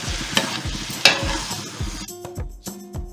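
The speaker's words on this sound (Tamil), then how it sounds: "கிளறி விடுங்க." Chicken pepper fry with onion is stirred in a pan, loud close scraping strokes over a steady sizzle, then the sizzle drops away, leaving a few sharp spoon scrapes against the pan.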